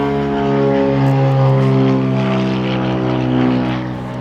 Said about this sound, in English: Just a plane flying over.